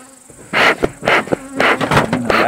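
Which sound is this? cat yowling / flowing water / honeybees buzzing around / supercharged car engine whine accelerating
honeybees buzzing around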